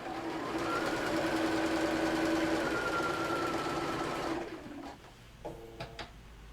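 A sewing machine stitching fabric with a steady fast whirring hum for about four seconds before stopping, followed by a few faint clicks and handling noises.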